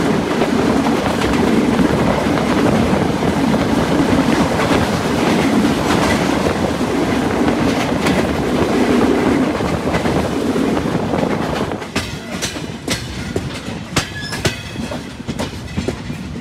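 Dhumketu Express on the Dhaka to Rajshahi line, rolling along the rails with a loud, steady rumble and rhythmic clatter of the carriages, growing sparser with sharp wheel clicks near the end.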